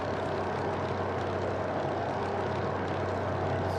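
Grumman F3F propeller plane cruising at about 3,500 feet, its engine a steady, loud, continuous drone with a deep low hum that holds unbroken throughout.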